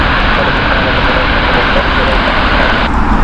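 An airplane passes at Heathrow Airport with a loud, broad continuous engine roar that holds steady and then shifts slightly near the end, while a person talks over it.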